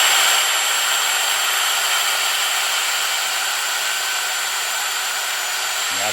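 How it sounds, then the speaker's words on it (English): A power drill bores a pilot hole into the skull plate of a shed deer antler mount, a steady high electric whine held for several seconds before it winds down. "We'll drill our pilot hole."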